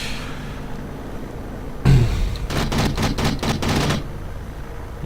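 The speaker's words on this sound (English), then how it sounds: "Obviously the trigger on your joystick fires the guns." Spitfire machine guns and cannon firing in the flight combat game Aces High 2: a heavy thump, then several rapid bursts of gunfire lasting about two seconds, loud and close over a steady engine drone.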